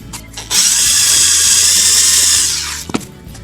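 A Foster FSD010 power screwdriver drives a countersink into roughly 3 mm thick material, giving a steady, close, high-pitched whirring drone that runs for about two seconds, then winds down and stops with a couple of brief clicks.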